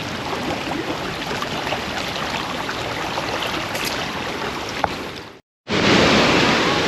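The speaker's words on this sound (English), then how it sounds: "Beautiful river in Germany," A river in a Munich park rushes with a broad, steady wash of flowing water, close and loud with some wind buffeting, cut briefly by a short silence before resuming at full strength.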